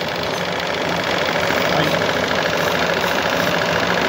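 A liquid-feed fuel burner runs with a steady flame, giving a constant, dense roar that stays even and unbroken throughout.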